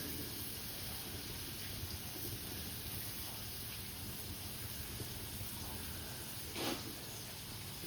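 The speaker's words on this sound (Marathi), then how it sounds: "मस्त थंडगार पाऊस पडता." Cool monsoon rain falls outdoors in rural Konkan as a faint, even hiss that barely changes from start to finish. One brief louder swish cuts in near the end.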